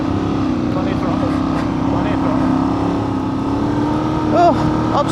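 A motorbike climbing the steep Hardknott Pass with plenty of throttle, its engine droning steadily and rising slightly in pitch, fairly close, while voices call out encouragement over it.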